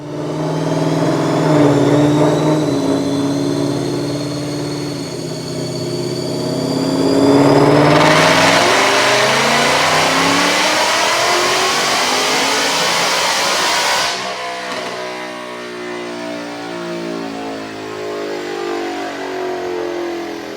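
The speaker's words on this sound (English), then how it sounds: "Check out this dyno pull." A 2019 Ford Mustang GT with a Whipple supercharger running 15 psi on E85 with an automatic transmission revs hard on a dyno, its engine note climbing steadily and loudly, peaking in a roaring high-rpm wail before easing off.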